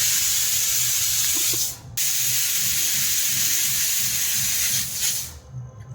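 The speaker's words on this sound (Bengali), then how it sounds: "প্রেশারে সিটি পড়া শুরু হয়েছে" A pressure cooker whistle vents steam in a steady, loud hiss that breaks off briefly near the two-second mark, then resumes and trails away at the end. No voices are heard.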